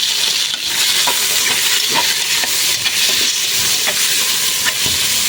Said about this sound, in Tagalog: Lagyan natin yung liig natin.